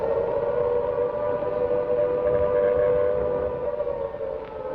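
An air raid civil defense siren wails over London during the Blitz, a loud, sustained tone that holds steady and slowly fades slightly toward the end, with nothing else over it.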